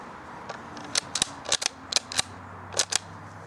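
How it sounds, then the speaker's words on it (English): A Remington Model 582 .22 LR rifle fires Federal small game high velocity copper plated hollow point rounds, heard as a handful of sharp, light cracks spaced irregularly over a few seconds, with no talk. "we're going to be shooting the Remington Model 582"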